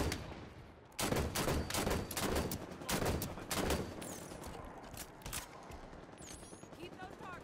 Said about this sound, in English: The only accurate chain gun.